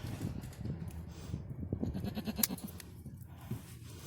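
A large goat of over 200 pounds bleats during hoof trimming, several short nasal bleats close by amid rustling, shuffling and handling noise.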